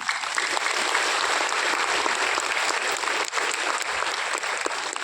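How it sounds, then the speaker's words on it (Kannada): A large meditation-day gathering claps loudly and continuously for Patriji, dense crowd applause holding steady for several seconds. "ಬುದ್ಧ ಅಂತ ಪತ್ರಿಜಿಗೆ ಜೋರಾಗ ಚಪ್ಪಾಳೆ."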